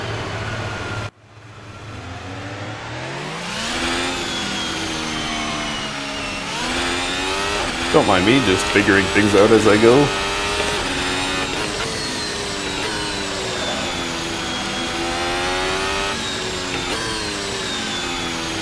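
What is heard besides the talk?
2021 F1 car engine exiting the pits at Silverstone, Assetto Corsa video game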